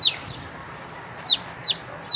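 Chickens clucking in short, high chirping calls, a few spaced bursts over a low, steady background hum.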